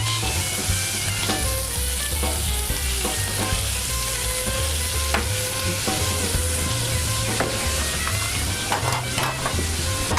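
Peppers and onions fry with spinach in bacon fat, giving a loud, steady sizzle with occasional stirring scrapes, close by and without talk.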